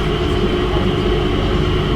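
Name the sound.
train passing at Singapore Changi Airport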